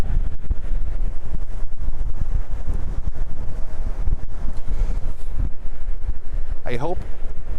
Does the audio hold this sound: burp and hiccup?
no